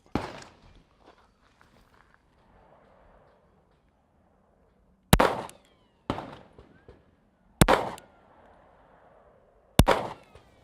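Four sharp, loud pistol shots ring out from an SCCY CPX-2 handgun firing Federal hollow-point rounds, spaced a second or two apart, each with a short echoing decay, after one faint shot at the start.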